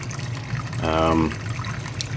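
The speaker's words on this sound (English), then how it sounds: "the water just feeds down" Water from an aquarium sterilizer feeds down through a 90-degree elbow on a hang-on-back setup. It makes a soft, steady trickle and splash that swells briefly near the middle of the clip.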